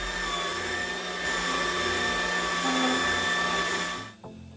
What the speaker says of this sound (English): The built-in cutting blades on AMZChef make it easier to deal with whole fruits as it chops it all up before juicing it.